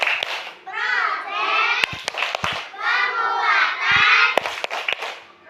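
Schoolchildren in a classroom chant the Tepuk P5 clapping routine together, loud overlapping young voices in rhythmic bursts punctuated by sharp group claps.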